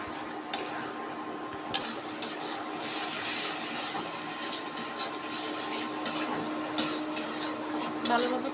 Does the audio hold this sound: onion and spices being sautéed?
yes